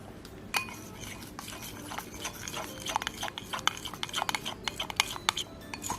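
A borax-free water jiggly slime mixture is stirred in a bowl, making close, irregular clicking and wet tapping sounds that grow busier toward the end, with no talking.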